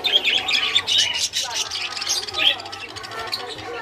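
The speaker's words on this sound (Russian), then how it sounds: "Очень много попугайчиков." Many parakeets squawking and chirping in a busy chorus at a petting zoo, close and fairly loud, while people talk over the birds throughout.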